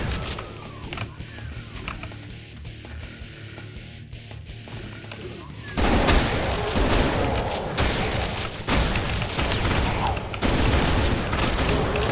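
Shotgun fire and dense gunfire in the video game Brutal Doom, with a quieter mechanical stretch giving way to loud, continuous bursts of shots and explosions that fill the second half.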